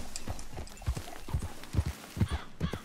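Horse hooves clip-clop in Red Dead Redemption 2 with a steady walking rhythm of paired thuds, close and clear, with faint background ambience and no talking.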